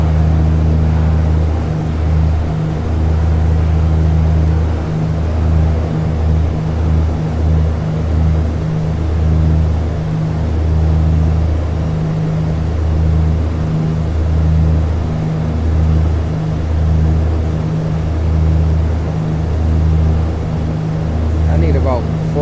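Simulated aircraft engines in the X-Plane 11 flight simulator drone loudly and steadily, with a pulsing low throb that holds unchanged from start to finish.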